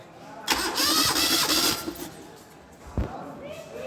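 Starter cranking a car engine with a compression tester fitted in the number 1 spark plug hole, a steady loud churning burst lasting about a second and a half, then a brief clunk, with voices faintly present.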